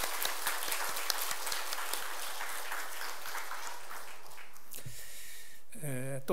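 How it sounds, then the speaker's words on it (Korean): A church congregation breaks into sustained, loud applause during a Sunday worship service, the dense clapping lasting about five seconds before fading out as a voice speaks briefly at the end. "다시 한번 크게 영광의 박수를"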